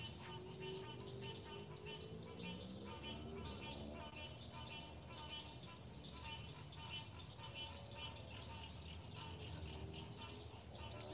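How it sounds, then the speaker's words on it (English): A dense night chorus of frogs calling steadily, with continuous trilling and chirping, faint and distant, with no voices. "Let me know if you can hear those frogs."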